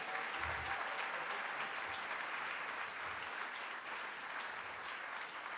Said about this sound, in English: another huge round of applause for this incredible film